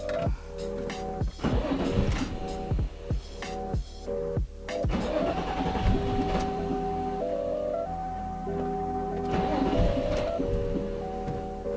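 A Nissan 350z engine cranking but failing to start after a new crank and cam position sensor install: repeated bursts of starter whirring with sharp clicks, several cranking attempts separated by short pauses, close and loud, under a steady electrical hum.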